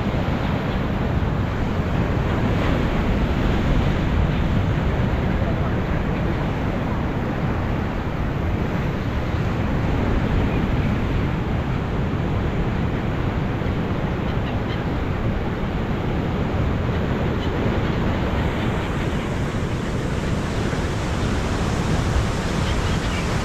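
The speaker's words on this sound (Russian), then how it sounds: "Слушайте шум моря." Stormy sea surf breaking against the Odessa shore, a steady loud broadband roar of waves with continuous wind-like wash and no clear pauses, heard alone without talk.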